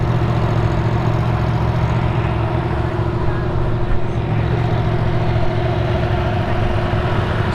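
Yamaha FZ-07 motorcycle, a 2017 model in red with a two-cylinder roughly 700cc engine, idling nearby with a steady low rumble and even throb, fairly quiet and continuous with no speech.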